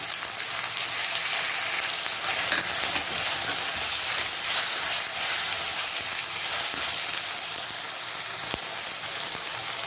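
Tomatoes frying in a pan with ginger garlic paste for a quail masala make a steady, close, crackling sizzle that runs unbroken throughout, with no talking over it.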